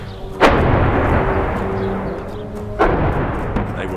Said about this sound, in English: Crockett ventured into the streets of Homs, It's just non-stop gunfire.